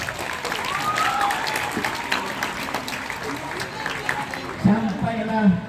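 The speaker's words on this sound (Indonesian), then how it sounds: "Tepuk tangan untuk kita semua" A crowd at an outdoor Maulid Nabi gathering in the hot sun applauds steadily, the clapping running the whole time beneath loud voices and calls from the gathering.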